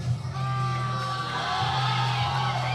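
Crowd at a powerlifting meet cheers and whoops for a big attempt, voices rising and sustained at moderate distance, with a brief dip before building again.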